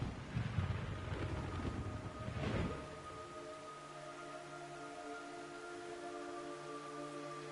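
Rain and a low rumble in a video game wash through at moderate loudness, building to a surge before settling into a quieter steady hiss with faint tonal music.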